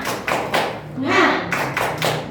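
Rhythmic clapping in a classroom clapping game, several even claps in a group, with people chanting over them.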